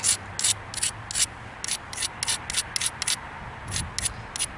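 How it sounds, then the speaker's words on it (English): Edges of a mookaite flint point being ground, a series of short, rhythmic rasping strokes close by, each a brief scratchy burst with small gaps between them, steady over a few seconds with no talking. "so I'm grinding all the edges"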